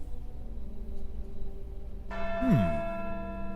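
A church bell in the video game Syberia II rings out once, a loud ringing strike with a shimmering, falling tone over quiet ambient game background.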